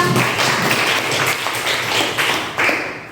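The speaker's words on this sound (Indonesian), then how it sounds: "Beri tepuk tangan untuk Angga." A classroom of students gives a short round of applause for a classmate during a lesson; scattered, uneven hand claps run steadily for about three seconds at moderate loudness, with no talking over them.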